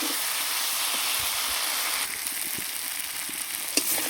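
Fried potatoes sizzle steadily in spiced masala in a pan as they are stir-fried, a continuous close hiss with faint scraping and a small clink near the end.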